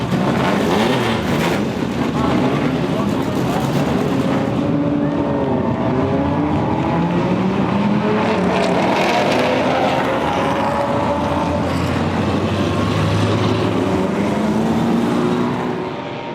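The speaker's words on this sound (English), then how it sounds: "Gentlemen and Susan, start your engines." Race car engines start and rev together in a loud, continuous roar with rising and falling pitch sweeps, mixed with wind buffeting, lasting about sixteen seconds before easing slightly at the end.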